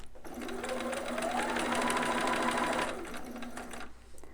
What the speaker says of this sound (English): Put your needle in the down position, turn your fabric, and continue to sew.